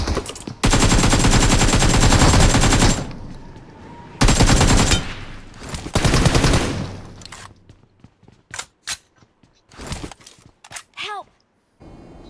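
Rapid automatic gunfire in a shooter video game comes in two long loud bursts, then scattered single shots and clicks, with someone talking in between.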